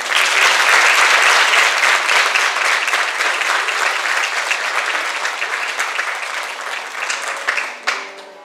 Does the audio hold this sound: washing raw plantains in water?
no